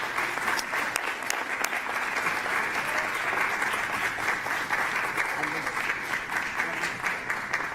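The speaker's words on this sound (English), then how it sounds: "Please welcome with a huge applause, Virginia Sanchez Carol." Audience at a National Puerto Rican Day Parade event giving a speaker a big welcoming round of applause, dense continuous clapping throughout with scattered voices mixed in.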